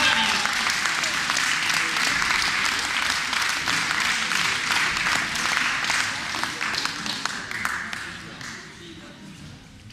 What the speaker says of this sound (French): Et à la première place termine Xavier Devaux, que l'on peut applaudir